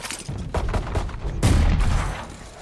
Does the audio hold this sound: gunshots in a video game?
yes